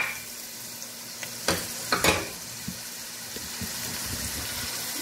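Shrimp dropped into a hot pan for majboos rubian sizzle steadily, with a couple of sharp splashing bursts as they hit the oil, then a softer frying hiss with small crackles; no one speaks.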